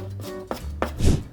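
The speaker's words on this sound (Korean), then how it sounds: "쪽파 한 줄기도 총총 썰어 줍니다." A knife finely chops a green onion stalk for a seasoned eggplant side dish, giving a few quick, crisp cuts against a board close by, with a low steady hum underneath.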